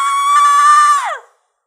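A girl's loud, sustained scream of fright, high-pitched and held steady before sliding downward and cutting off abruptly into silence.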